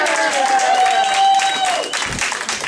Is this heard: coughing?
no